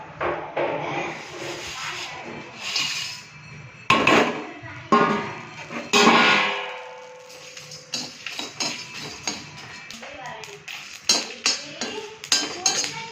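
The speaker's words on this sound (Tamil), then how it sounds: "நம்ம இப்போ வந்து எல்லாத்தையும் போட்டு வறுப்படுத்துக்கலாம்" Whole spices such as cinnamon being dry roasted in a heated kadai, with irregular clinks, rattles and scraping knocks of the spices and spoon against the pan, close and uneven.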